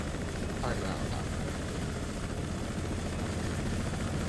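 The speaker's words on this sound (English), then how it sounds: "Mi-26, though, is a really beautiful looking target helicopter." A Mi-26 helicopter in the video game Broken Arrow gives a steady, dense rotor and engine roar that fills the whole stretch at even loudness.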